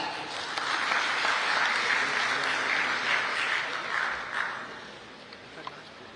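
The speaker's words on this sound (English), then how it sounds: "A round of applause, please, Mr. Neeraj Ambani." A hall full of delegates at the Federation of Freight Forwarders' Associations in India 25th Biennial Convention applauds steadily, the clapping dense and sustained before tapering off near the end.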